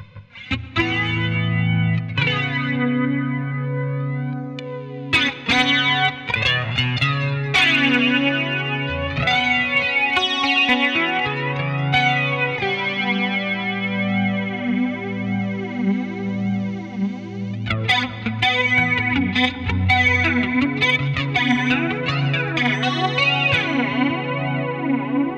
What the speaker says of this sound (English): Next one, the flanger.